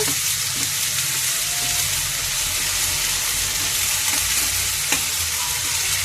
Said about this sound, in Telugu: ఉల్లిపాయ పేస్ట్ వేస్తున్నాను. ఇది కూడా వేగుతుంది కదా మనకి.